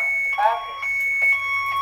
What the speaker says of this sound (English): Now, does this alarm go straight to the county's dispatch, or?